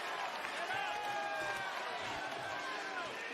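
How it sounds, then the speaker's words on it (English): A capacity arena crowd at WWE Raw in Green Bay keeps up a steady roar with rising sung chants, loud and continuous, with no single voice standing out. "the Sami chants from this capacity crowd in Green Bay"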